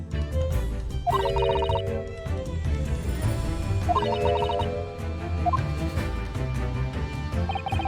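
Repeated bell rings from The Great Ace Attorney Chronicles sound in short metallic bursts, three separate times, over a steady game music bed with no talking.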